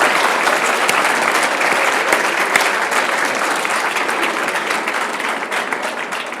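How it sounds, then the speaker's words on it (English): A live audience at the Appel Salon applauds young climate activists in a loud, dense round of clapping that holds steady, then eases slightly toward the end, with no speech over it. "Everyone give a round of applause for these young people."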